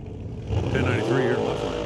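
A Mopar drag car accelerates down the strip at a test-and-tune drag racing event, a loud rising engine roar heard under an announcer's voice talking over it.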